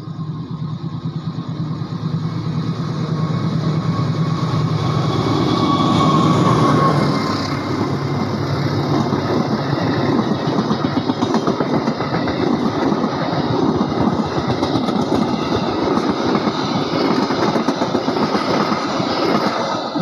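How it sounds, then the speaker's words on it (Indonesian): Passenger train Malabar rumbling past on Indonesian railway tracks, a loud sustained roar of wheels and engine that builds and holds steadily close by with no talk. "gemuruh daripada kereta api Malabar sudah terdengar dekat"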